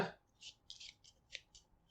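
Board game cards for Aeon's End Legacy being shuffled at close range in a series of short, crisp riffling bursts with brief pauses between them, with no talk over it.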